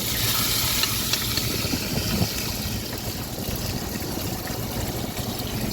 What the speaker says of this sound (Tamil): பொடி வெங்காயம் சேர்த்துருக்காங்க. நல்லா வதங்கட்டும்.